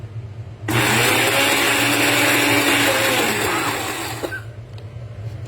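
An electric grinder starts abruptly and churns red chillies with oil in a loud, steady whirring roar that eases slightly before stopping, with a faint hum after.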